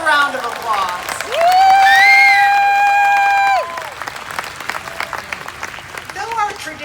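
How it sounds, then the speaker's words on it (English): Graduates of the class of 2021 applaud at an indoor hooding and commencement ceremony: a long, loud sung cheer rings out first, then a steady wash of crowd clapping with scattered whoops carries on. "Give yourselves a round of applause."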